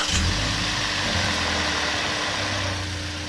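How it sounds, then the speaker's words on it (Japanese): A Toyota HiAce engine, just started after an oil and filter change, idles with a steady low rumble and hum, close by, continuing evenly without other sounds. "フィルターにオイルを回すのに1回エンジンをかけます。"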